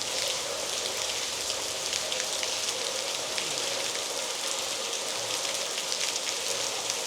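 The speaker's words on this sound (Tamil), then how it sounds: "மழை பெஞ்சிட்ருக்கு" Steady rain pours outside a Shiva temple, a dense, even hiss of drops spattering on surfaces, close and constant with no voices.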